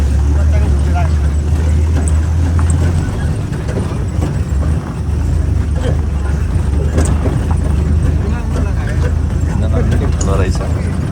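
A safari vehicle drives through the jungle at Chitwan, Sauraha, its engine a steady low hum under constant road rumble, with people talking close by throughout.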